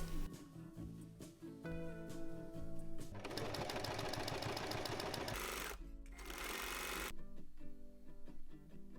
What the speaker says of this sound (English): Once it's right sides out, we're going to top stitch it.